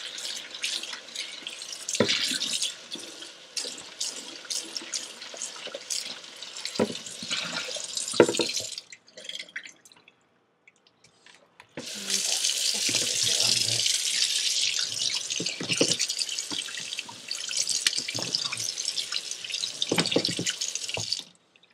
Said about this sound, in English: I'm going to go ahead and rinse out my bucket.